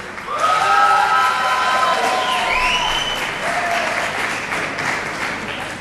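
Loud applause and cheering from a crowded audience at a music awards ceremony in a hall, a sustained wave of clapping and shouts that swells early and gradually eases.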